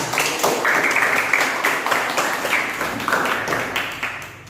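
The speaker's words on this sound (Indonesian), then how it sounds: "Beri tepuk tangan." A class of schoolchildren clapping during a practice lesson, in a fast rhythmic burst of claps in short, patterned groups that fade toward the end, fairly close and loud.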